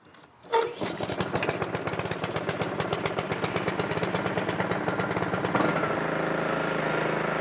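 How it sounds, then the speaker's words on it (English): A Honda HRX 217 lawn mower with a GC 160 engine is pull-started and runs steadily at close range, its rapid even engine chatter loud and continuous after the pull. "I'm going to go ahead and choke it for you guys, and I'm going to give it a pull. It'll crank right up."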